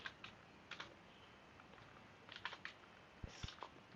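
Computer keyboard typing, quiet scattered keystrokes in short bursts with pauses between, close but faint in a still room.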